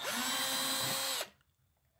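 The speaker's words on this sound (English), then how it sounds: "right now I'm just going to unscrew all these bolts for you." A power tool spins loudly and close while unscrewing bolts on a tractor trailer brake system, whirring steadily for about a second before cutting off abruptly into quiet.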